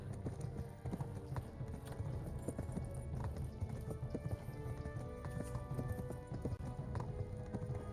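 Rapid hoofbeats of a galloping horse in Kingdom Come: Deliverance clatter steadily throughout at moderate loudness, with faint background game sounds and no clear speech.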